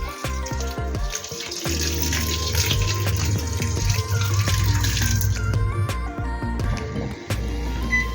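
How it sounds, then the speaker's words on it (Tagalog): Water runs steadily into a pot of pakbet vegetable stew, a continuous close pouring and splashing over a cooking background, with brief clatters near the start and end. "lagyan po natin ng konting tubig"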